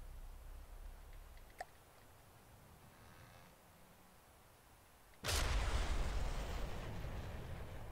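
Torpedoes launch from a warship in the naval combat game From the Depths: after a quiet stretch of soft sea ambience with a faint click, a sudden loud broadband whoosh-and-rumble bursts in and sustains to the end.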